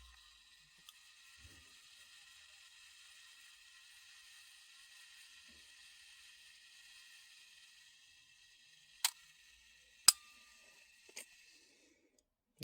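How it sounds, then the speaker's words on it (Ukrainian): Self-timer on a Porst 135 L Japanese rangefinder camera whirring steadily with a fine mechanical buzz close to the mic, then a few sharp clicks as the shutter fires and the mechanism stops. "Також в цьому фотоапараті повністю робочий автопуск."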